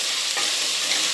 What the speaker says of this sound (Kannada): ಈಗ ಇದಕ್ಕೆ ಸ್ವಲ್ಪ ಉಪ್ಪು ಹಾಕ್ಕೊತಿದ್ದೀನಿ, ಚೆನ್ನಾಗಿ ಫ್ರೈ ಮಾಡ್ತೀನಿ